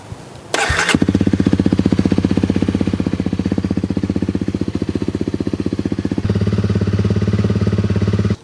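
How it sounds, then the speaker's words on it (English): A Honda CRF250L Rally is cranked and fires up, its single-cylinder engine then settling into a steady, rapid-pulsing idle close by, with a slight drop in pitch near the end. "And now I'm just going to start the bike."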